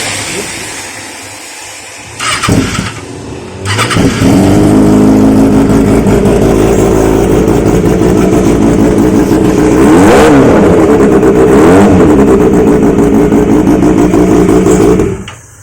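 Kawasaki ZX636 sport bike with an aftermarket exhaust and no catalytic converter starts up, then idles loudly and steadily, with two sharp throttle blips near the end before it cuts off.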